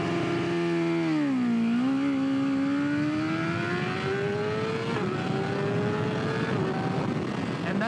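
A sport motorcycle on launch control holds a steady high rev, dips, then pulls away with the engine note climbing smoothly through a long gear, loud and close throughout.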